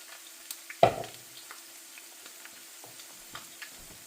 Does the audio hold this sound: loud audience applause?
no